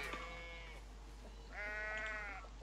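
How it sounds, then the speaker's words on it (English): Sheep bleating in the Coral Island farming game, two drawn-out wavering bleats close by over a soft steady background hum. "So let's shear the sheep,"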